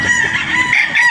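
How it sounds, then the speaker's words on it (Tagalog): A loud, close gamecock crow at a game farm in Batangas, a single strained call that fills the short moment. "manok na nilagay na namin dito."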